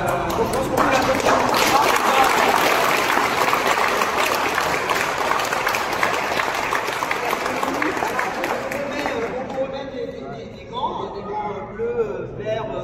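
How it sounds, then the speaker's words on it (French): An audience at a club graduation ceremony for Momo breaks into loud, sustained applause with crowd noise mixed in, thinning out toward the end as scattered voices take over. "Donc je pense qu'on peut l'applaudir."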